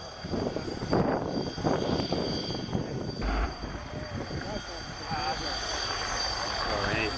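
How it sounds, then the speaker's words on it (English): A British Army Apache attack helicopter's engine and rotor drone steadily in the distance during an air show display, while voices talk over it nearby. "the British Army Apache attack helicopter."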